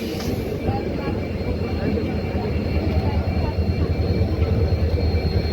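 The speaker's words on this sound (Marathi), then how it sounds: "5 वाजून 18 मिनिटाला पूर्णा जंक्शनवर आपली ट्रेन आलेली आहे" The Tapovan Express pulls into Purna Junction in heavy rain, a loud, dense, steady rumble of rolling train and downpour that swells slightly toward the end.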